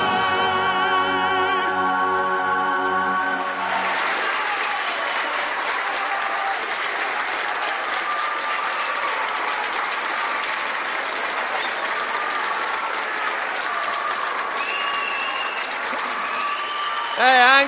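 Audience applause fills a televised music show episode paying tribute to an Italian singer. After a few seconds of fading music, it becomes a steady, dense clapping that stays loud and even until the end.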